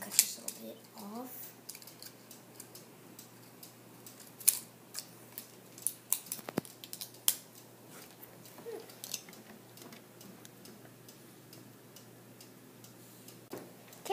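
Scissors snipping a recycled plastic bottle into rounded petals for a craft flower, with soft, close, irregular clicks and crisp cuts spread through a quiet room.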